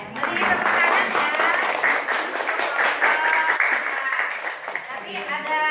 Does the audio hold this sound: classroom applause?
yes